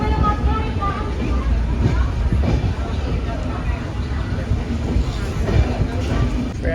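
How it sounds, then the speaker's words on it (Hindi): Steady rumble and rattle of a passenger train rolling on after leaving Bhubaneswar station, heard from inside the coach as a continuous loud drone, with people talking over it. "फ्रेंड्स हमारी ट्रेन तो निकल चुकी है भुवनेश्वर से।"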